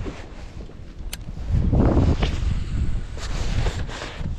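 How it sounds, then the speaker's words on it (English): Wind buffets a fishing kayak out on a lake, a steady low rumble of gusts against the microphone with faint water lapping and occasional knocks against the hull. "The wind's pushing me."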